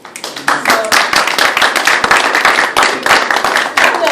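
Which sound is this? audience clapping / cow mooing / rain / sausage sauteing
audience clapping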